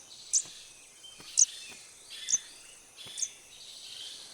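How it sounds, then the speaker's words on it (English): A pink-headed warbler in a pine, giving four thin, high chirps spaced about a second apart, fairly close, over a faint background of insect hiss. "Oh, look, in the pine, pink-headed warbler."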